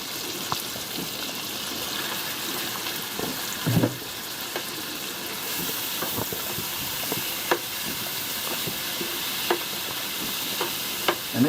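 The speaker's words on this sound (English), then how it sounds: "So you want the stew beef to brown." Stew beef browning in a hot pot over high heat, a loud continuous sizzle and crackle with occasional stirring scrapes and clicks, close up and without speech.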